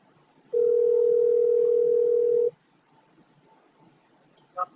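A telephone dial tone sounds as a clean, steady tone for about two seconds, then cuts off to near quiet before a short beep, ahead of a phone interview.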